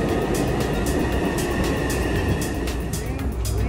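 A train pulls into a station on a Taipei trip, its steady rumble and rolling rail noise broad and loud throughout, with faint talk in the background.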